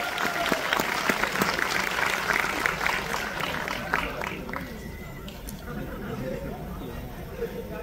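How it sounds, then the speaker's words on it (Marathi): A crowd at a college farewell in Pune claps loudly for several seconds; the applause thins into crowd chatter and voices toward the end. "जोरदार टाळ्या होऊन जाऊ दे"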